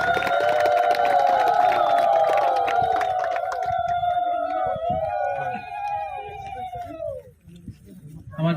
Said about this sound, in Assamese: সকলোৱে হাত চাপৰি দিব, সকলোৱে হাত কৰিব